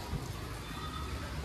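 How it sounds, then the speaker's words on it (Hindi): Heavy rain pours down steadily in a village, a dense, even hiss with no breaks and no voices over it. "बारिश आ गई है और फुल तेज आ रही है"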